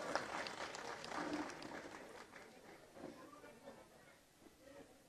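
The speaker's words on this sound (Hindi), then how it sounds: "आप भी तालियों से उनका स्वागत करिए।" A crowd at an outdoor rally at Dussehra Maidan claps to welcome a member of parliament, faint and distant, with the applause tapering off over a few seconds amid background murmur.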